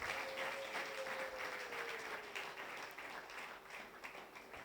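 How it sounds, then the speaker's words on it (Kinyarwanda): A church congregation applauds steadily and continuously, a dense wash of clapping heard at moderate distance with a faint sustained tone running beneath it. "Ongera umfashe dukomere Imana amashyi menshi."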